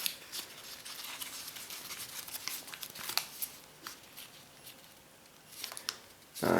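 Origami paper is squash folded for a Goliath beetle model, giving faint, scattered crinkles and soft paper rustles with a few sharper creases, alone and close.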